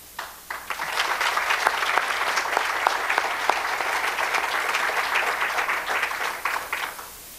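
An audience at a summit on preventing cyberbullying hosted by Melania Trump applauds a speaker, with dense, even clapping that holds loudly for about seven seconds before tapering off.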